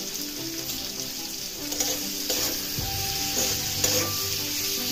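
Chilli paneer sauce with sugar added sizzles in a pan while it is stirred. The close, steady frying crackle comes with scraping stir strokes, and no one talks.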